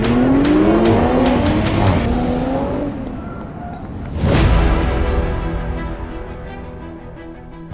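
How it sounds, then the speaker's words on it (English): A Toyota GR Supra performing a J turn at Daytona lets out a loud, close tire squeal over its revving engine. The squeal sweeps through the first couple of seconds, then a second burst follows before the car's noise trails off. "The driver who does the best J turn will be the winner."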